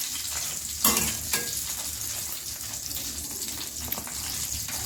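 Chicken pieces fry in hot oil for KFC-style fried chicken, giving a steady, moderately quiet sizzle and crackle, with a couple of brief louder bursts as pieces are dropped in or turned.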